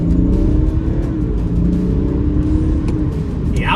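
Two BMW 330d cars, one a stock F30 saloon and one a remapped F31 estate, launch in a drag race start in Eco Pro mode: loud, continuous diesel engine roar with rising revs heard from inside a car, no talking.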